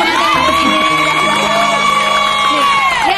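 A studio audience at an Indonesian TV talk show cheers and whoops loudly, with a sustained, voice-like crowd cheer holding steady across the moment.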